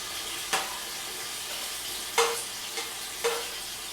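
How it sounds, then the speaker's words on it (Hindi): Onions sizzling in hot oil in a pot for mutton yakhni pulao. A soft, even frying hiss runs throughout, broken by a few sharp spoon or utensil knocks. "ऑयल गर्म हो गया। अब हम इसमें प्याज डाल देंगे।"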